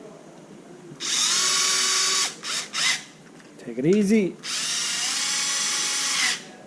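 A power drill drives bolts into a rebuilt Traxxas Maxx 4S RC car: two long, loud whirring bursts with short stuttering pulses between them, and someone briefly speaking in the gap.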